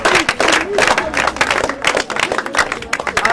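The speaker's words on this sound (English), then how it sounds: "Clap for her." A crowd claps energetically, dense applause rolling continuously for a few seconds with some voices mixed in.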